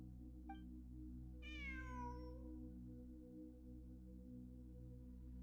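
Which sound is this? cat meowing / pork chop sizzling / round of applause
cat meowing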